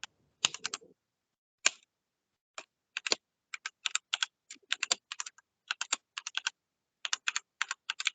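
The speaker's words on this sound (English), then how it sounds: "we hear your mechanical keyboard" Mechanical keyboard keys clack in short bursts of quick taps with brief pauses between them, close and crisp with no voices.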